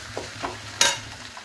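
Food frying in mustard oil in a pan, with a few soft stirring scrapes and a louder sizzling burst partway through, heard close and alone without any talk.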